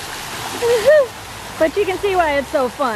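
Scott Falls, a roadside waterfall, gives a steady broadband rush of falling water throughout, sitting beneath a person talking close to the microphone.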